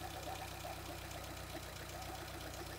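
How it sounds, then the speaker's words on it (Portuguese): A Fiat Tipo 1.6 8V petrol engine runs with a steady low mechanical drone and faint rhythmic ticking, sounding more like a near-idle hum than a strong rev, with no one talking. "Deixa eu ver se posso acelerar aqui o motor."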